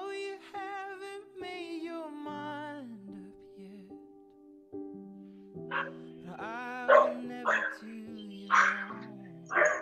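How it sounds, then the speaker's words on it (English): Dogs bark indoors in a few sharp, close bursts during the second half, breaking into a calm stretch of soft sustained tones. "Sorry, bad time for my dogs to bark."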